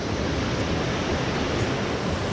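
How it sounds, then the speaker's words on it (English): Araluen Falls in Finch Hatton Gorge pours after recent rain with a steady, loud, broadband rush of falling water, heard up close and without any voices. "one of the waterfalls here on the Finch Hatton Gorge walk, and it's called the Araluen Falls"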